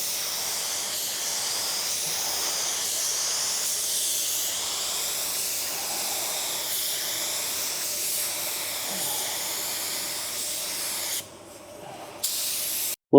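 A spray gun lays a sealer coat onto a car in a paint booth, giving a loud, steady, close hiss that runs continuously for over ten seconds before briefly cutting off near the end.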